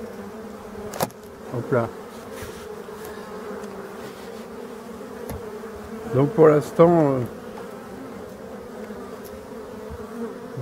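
Black honey bees from abandoned hives in a forest buzz in a steady low drone near the microphone, with a few louder passes of single bees as someone speaks briefly.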